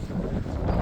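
Strong wind buffets the microphone in a steady, loud rumble, with gusty roaring and no voices.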